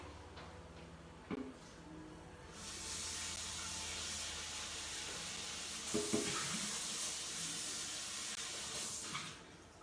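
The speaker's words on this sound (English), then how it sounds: "next we're just going to rinse our mixing bowl" A mixing bowl rinsed under a running kitchen tap: steady hissing water spray that starts a few seconds in and runs on, with a couple of brief clunks of the bowl against the sink, no talking.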